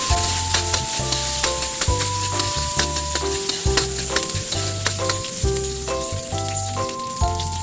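Onion and garlic sauté in a hot wok-style pan as the first step of a chicken pochero. Steady sizzling runs under repeated stirring scrapes, close and fairly loud, with no talk.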